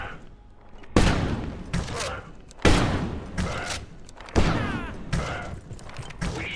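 Automated turrets in Abiotic Factor fire in loud, sharp bursts, four or five heavy volleys each followed by a rattling tail, with softer shots and faint mechanical noises in between.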